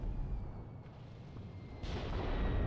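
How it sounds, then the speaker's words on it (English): Mortar fire in the WW2 game Mius Front lands as a continuous low rumbling barrage, with a louder swell of blasts toward the end, broad and heavy with no talking. "that sounds like mortars."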